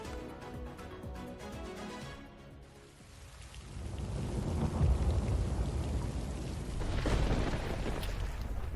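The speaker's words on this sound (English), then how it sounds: "A fresh spell of rains, an old story." Heavy rain pouring down in Gurugram, a steady dense roar of water that swells louder midway and stays intense, with no voices over it.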